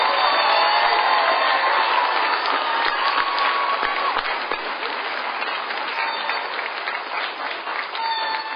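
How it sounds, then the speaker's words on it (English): Sustained applause at a university graduation ceremony in Hawaii, a large hall full of steady clapping with a few whoops and cheers, loud and even throughout. "let's give them a round of applause."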